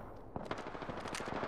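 Rapid automatic gunfire from the video game Apex Legends, a dense burst of shots firing in quick succession, fairly faint and compressed.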